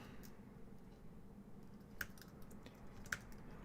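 Faint, sparse clicks of typing on a computer keyboard, a couple of soft keystrokes over a steady low background hum, heard quietly at a distance.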